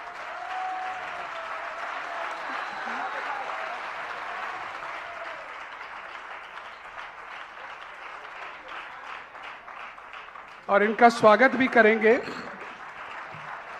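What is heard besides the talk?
applause for the girls who made sketches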